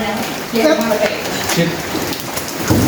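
Heavy rain pours steadily outdoors, a dense hiss of drops on surfaces, with someone talking over it throughout.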